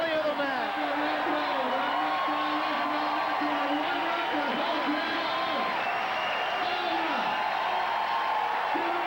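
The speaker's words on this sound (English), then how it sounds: "Great shot of the crowd here in Cleveland, just going nuts." Volleyball crowd in Cleveland roaring after a long rally in a beach volleyball final, loud sustained cheering, whoops and applause close up, with a commentator talking over the noise.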